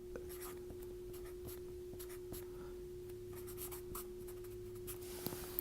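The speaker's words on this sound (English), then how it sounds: "Let me write a little bigger here." Pen scratching on paper while working a chemistry problem: soft, close, intermittent strokes and taps over a quiet hum, faint and sporadic.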